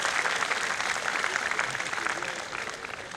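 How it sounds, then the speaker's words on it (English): Steady audience applause in a hall at a college convocation keynote, dense continuous clapping without speech, slowly easing toward the end. "Yes, you can applaud to that."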